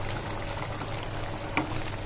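Fish roe simmering in boiling water inside a covered pan, a steady close bubbling hiss throughout with one brief louder pop near the end, no voices.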